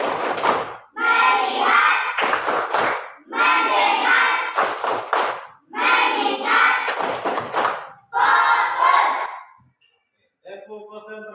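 A class of pupils performs the 'tepuk fokus' clapping chant, shouting four loud unison phrases, each burst mixed with hand claps and separated by short pauses, ending with a faint tail.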